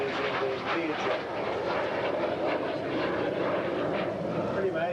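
A military jet trainer developed from the T-37 roars past at a seaside airshow in Shellharbour, a steady loud engine drone filling the whole stretch with broadband rushing noise, recorded on a 1990s Panasonic camcorder.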